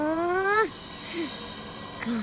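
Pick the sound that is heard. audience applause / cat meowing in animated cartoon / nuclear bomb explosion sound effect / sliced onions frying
cat meowing in animated cartoon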